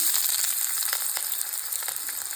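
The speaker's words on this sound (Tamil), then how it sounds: "ஆயில் ஹீட் ஆனதும் இது எல்லாத்தையும் போட்டுக்கலாம். வெங்காயம் போட்டுக்கலாம்." Onions sizzle steadily in hot oil for a home-style Tamil vegetable kurma, a loud, dense, continuous hiss with scattered crackles and pops and no voices.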